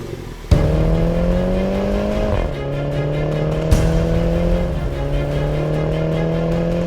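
A Mini Cooper JCW engine roars loudly up close in sport mode, its pitch climbing steadily under acceleration and dipping briefly at two gear changes, with no talking.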